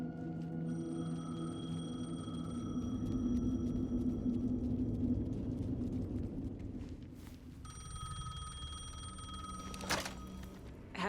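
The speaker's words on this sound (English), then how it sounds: "The payphone was ringing." A payphone rings in the video game Alan Wake 2, steady electronic ringing tones repeating over a low ambient rumble and drone, pausing midway before ringing resumes near the end.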